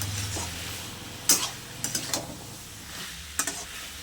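Crab is stirred with drumstick stalks and prawns in a pan: a low background sizzle is broken by scattered sharp scrapes and clacks of the spoon, one near the start, a quick cluster in the middle and another toward the end.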